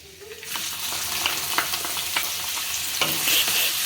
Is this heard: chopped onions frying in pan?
yes